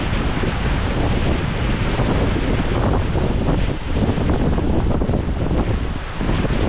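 A steady broadband roar of an Icelandic waterfall in winter, mixed with gusting wind buffeting the microphone, continuous and loud throughout with no voices.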